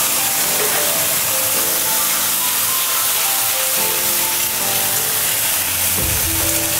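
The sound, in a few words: ginger garlic onion paste sizzling in hot oil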